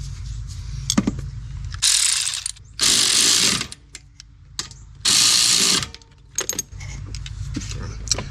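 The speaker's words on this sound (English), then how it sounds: "11mm socket, by the way." A hand ratchet driving an 11mm socket on bolts while mounting overlanding cases on a 5th Gen 4Runner, with bursts of rapid clicking ratchet strokes between metallic taps and clinks, loud and close.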